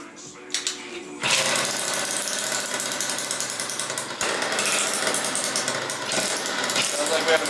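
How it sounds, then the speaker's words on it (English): A Yamaha Zuma 70cc scooter with a Polini rebuild, a Chinese carburetor and new throttle cables fires up after a brief quiet moment, then runs with a loud, buzzy, raspy two-stroke rattle and small uneven revs close by. "Now we can start the bike and hear it run real quick."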